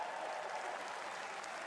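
Faint, steady audience applause from a Summer Game Fest presentation, a continuous wash of distant clapping throughout.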